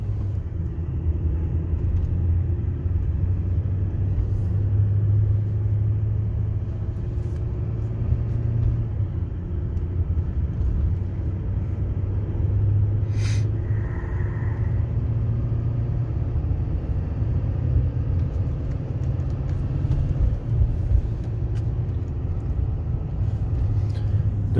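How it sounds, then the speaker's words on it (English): A vehicle towing a trailer with malfunctioning gears, its transmission downshifting under load: a steady, loud low engine rumble throughout, with a slight shift in pitch partway through and no talking. "There it goes, finally downshifting."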